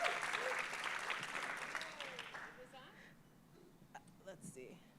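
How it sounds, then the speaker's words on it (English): An audience applauds novelist Clevis Natera at a book talk, a burst of clapping that starts full and then fades away over a few seconds, quiet and distant in tone. "Please, can we all give a great big round of applause for Clevis Natera?"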